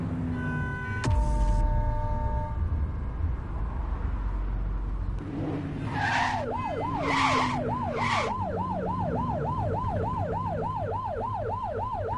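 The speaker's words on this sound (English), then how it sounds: "Get behind them and blip the siren to make them pull over." A video game police siren wails, rising and falling in steady rapid cycles, loud and close, following a burst of engine and horn-like tones, with a few short yelps in between.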